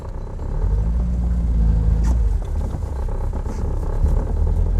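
A car's engine rumbles and revs steadily up close as it drives around in a tight turning circle, with a brief tyre or mechanical squeal partway through.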